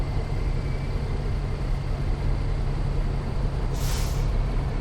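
A steady truck engine drone hums throughout in a video game, then a sharp hiss of air brakes bursts briefly near the end.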